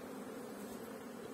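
Honeybees buzz steadily at a hive box during feeding, a continuous close, dense hum with no breaks and no voices.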